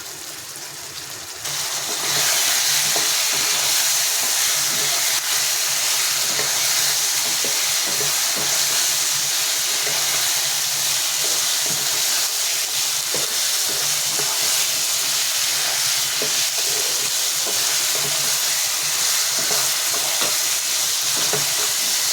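Spices sautéing in a pan give a loud, continuous frying hiss that builds after a brief start and runs unbroken for about twenty seconds, with faint stirring scrapes scattered through it.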